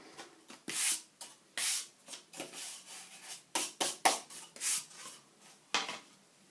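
Wood is sanded by hand to knock off splinters, coming as a series of short, brisk rasping strokes in uneven rhythm, close and fairly quiet, with gaps of silence between passes.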